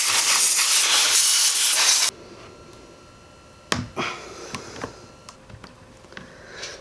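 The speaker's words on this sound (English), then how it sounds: "put your compressed air straight into the carburetor" Compressed air hisses loudly in a steady blast for about two seconds, cleaning dust off the carburetor of a 36-year-old chainsaw left sitting for 15 years, followed by quieter clicks and small knocks.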